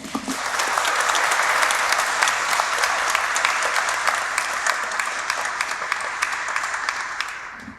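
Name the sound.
conference audience applause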